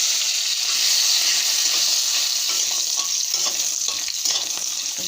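Panch phoron, green chilies and bay leaves sizzle in hot oil in a kadai, a steady bright frying hiss with small crackles and pops, close and continuous.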